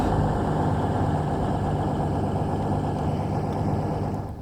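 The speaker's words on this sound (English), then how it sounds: "Probably quite noisy as well with the diesel engines going off." Diesel engines of a Class 220 Voyager train in Train Sim World rumble at idle, a loud, close, steady low drone with a faint higher hum that holds unchanged, slightly fading at the end.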